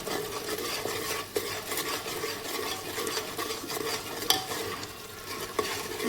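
Chicken masala frying in a pan for chicken rassa, a continuous moderate sizzle punctuated by a few sharp clinks and scrapes of a spoon stirring against the vessel.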